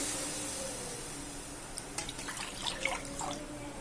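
Water poured into a pot of basmati rice for pulao, a quiet trickling and splashing that starts midway after a near-silent opening.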